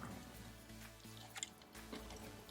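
Chewing and biting into a Panda Express orange chicken sandwich with pickles and spicy aioli, soft close mouth sounds and a faint crunch over a low steady background hum.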